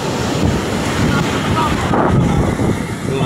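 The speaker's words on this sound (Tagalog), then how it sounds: "Malakas ang alon dito sa Napasaklan." Strong sea waves surge and crash continuously in heavy wind during a typhoon at a beach in Aklan, Panay Island, with loud wind buffeting throughout.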